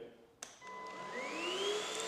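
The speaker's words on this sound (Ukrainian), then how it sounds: "Коли вимикаємо, пилосос дотягує залишки води по трубкам, після чого вимикається." An FCV3 upright wet vacuum cleaner drawing the last water through its tubes before switching off: a sharp click, then a steady motor whine whose tone climbs and strengthens, close by with no talking.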